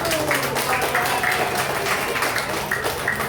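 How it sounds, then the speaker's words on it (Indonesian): Schoolchildren in a classroom clap for a group of classmates, a dense, steady patter of many hands that stays fairly loud and even throughout, with a voice faintly mixed in. "Sekali lagi tepuk tangan untuk kelompok 1."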